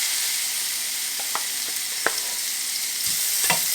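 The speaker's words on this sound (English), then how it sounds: "Hear that nice sizzle." Two one-pound T-bone steaks sizzle on a Ninja Foodi Grill XL, a steady bright hiss of frying with a few sharp pops and crackles and light utensil contact, close and continuous with no talking.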